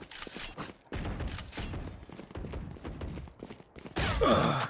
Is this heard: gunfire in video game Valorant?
yes